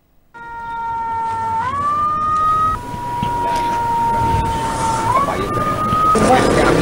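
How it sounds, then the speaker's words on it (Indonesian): A village ambulance in Bantar Gadung, Sukabumi, sounds its siren close by, a loud sustained wail that shifts pitch in steps over engine and street noise. "Mobil ambulan Desa Bantar Gadung langsung membawa korban tewas akibat keracunan makanan tahlilan bernama Dewi usia 37 tahun"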